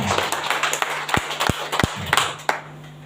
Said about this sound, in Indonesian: Tepuk tangan dulu untuk Bapak Stanis.